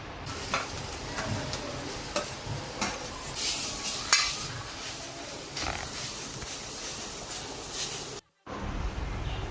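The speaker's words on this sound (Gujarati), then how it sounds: "4 ચમચી ઘી લેવાનું છે, એમાં શેકવાનું છે બીટને।" Grated beetroot roasts in ghee for beetroot halwa, a steady sizzle with repeated scraping stirs throughout, close and fairly loud, cutting out briefly near the end before resuming.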